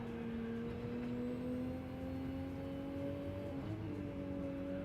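A Toyota Supra race car engine at Laguna Seca during a Clubman's Pro-Am round, a steady droning engine note heard from a distance, holding pitch then shifting slightly near the end, with no talk.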